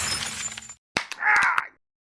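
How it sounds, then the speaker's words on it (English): Glass breaking in a horror film scene: one sharp crash, then a brief burst of shattering and scattering shards, heard alone after a cut from a noisy background. "To open, break glass."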